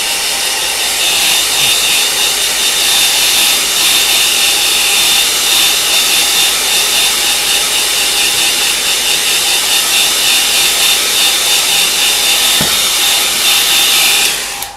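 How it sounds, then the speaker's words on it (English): A hair dryer drying watercolour paper blows with a loud, constant airy roar, running steadily close by for about fifteen seconds before switching off. "So hairdryer."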